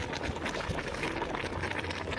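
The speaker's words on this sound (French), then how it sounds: "Ça a bien bouilli" A pot of cassava (manioc) at a rolling boil, steady bubbling and churning liquid heard up close and continuous, with no talk over it.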